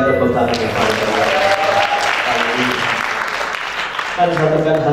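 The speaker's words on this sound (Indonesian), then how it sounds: "Sekali lagi kita berikan tepuk tangan yang paling meriah." Church congregation applauding during an evening worship service: loud, dense clapping from many people, close and sustained, with sung or spoken voice lines at the start and end.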